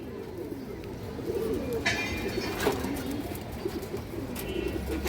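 Pigeons coo softly in a loft, low, repeated throaty calls overlapping through a background hum, with a few brief rustles and flutters in between.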